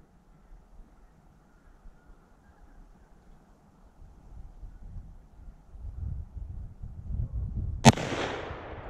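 One loud, sharp gunshot cracks outdoors in snow with a short echoing tail. Several seconds of faint wind rumble and low handling noise come before it.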